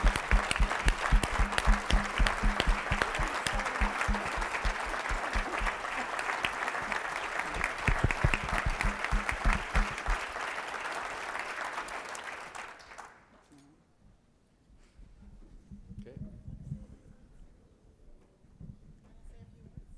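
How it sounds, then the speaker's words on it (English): An audience at the NORA 2014 conference gives a big round of applause after a speech, loud dense clapping that fades out, followed by a speaker talking quietly. "a Big round of applause."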